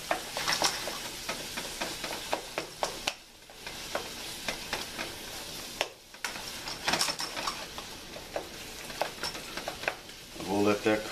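Ground turkey browning with onions in a pan, a steady close sizzle and crackle with stirring and utensil scrapes throughout, briefly dipping twice, with a clatter near the end.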